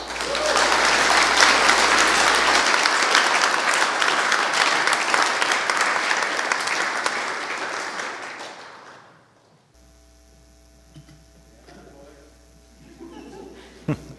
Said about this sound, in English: Now let's get a round of applause for CHSS's very own graduating class of 2020.